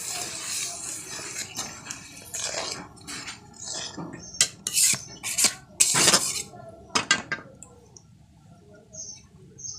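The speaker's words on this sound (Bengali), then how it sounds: "আর কিছুটা হলুদের গুঁড়ো দিয়ে দেব। ভালো করে একটু মিশিয়ে নেব।" Turmeric powder is stirred into a pan with a series of scraping, clinking spoon-against-metal strokes, irregular and fairly close, with a lighter crackle underneath.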